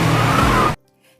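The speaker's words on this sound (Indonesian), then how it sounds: "Hingga sekali petikan jari Hirukawa, mobil pun melaju kencang." An anime car speeds off with a loud, sustained engine roar and tire noise that cuts off abruptly, leaving near silence.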